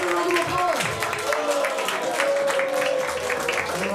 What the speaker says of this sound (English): Everybody, let's give a round of applause.